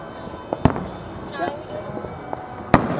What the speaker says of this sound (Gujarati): પાછળ બોમ્બ ફૂટે